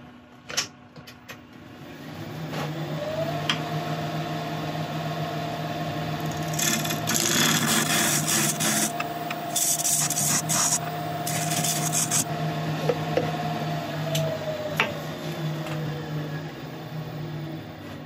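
A woodturning tool rounds over the edges of a yew bowl spinning on a lathe: a steady motor hum with a rising, rasping scrape of the cut in the middle, without talk.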